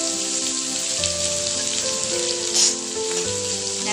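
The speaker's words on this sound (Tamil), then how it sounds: "நல்லா வதக்கி விட்டுக்கோங்க." Sliced onions sauté in oil with popped mustard seeds and green chillies, producing a dense, even sizzle that runs throughout, close and steady, with a soft tonal hum from the kitchen underneath.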